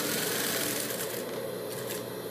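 A sewing machine stitching a fabric face mask, a fast continuous whirring rattle held close and steady for a couple of seconds.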